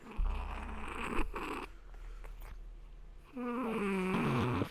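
A cat purrs and grumbles right into the microphone, a close, continuous rumbling purr that shifts into a rising, grumbly vocal moan near the end, with no talk over it.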